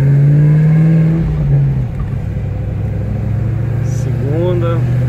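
A Chevrolet Camaro ZL1 V8, still slightly cold, pulls away in first gear with a loud, deep engine note that rises, drops at the shift, then climbs again, while someone talks over it.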